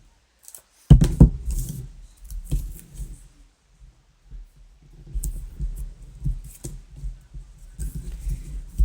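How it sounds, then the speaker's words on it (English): Tape being handled and pressed onto the back of a paper polar bear cutout for a shaker frame craft, heard as a sharp onset near one second followed by soft, intermittent clicks, rustles and taps, close and fairly quiet with no talking. "I'm going to put some of this tape on the back of the polar bear"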